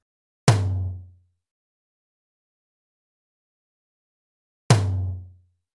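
Two separate hits on drum-kit toms, each a sharp attack followed by a short, deep, decaying boom, spaced about four seconds apart in an otherwise silent room.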